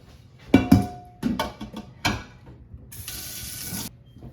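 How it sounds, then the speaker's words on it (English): A glass canning jar holding bean sludge is rinsed under a kitchen tap. Close clunks of the jar are followed by a short burst of running water, with no talking. "so I'm going to rinse that out"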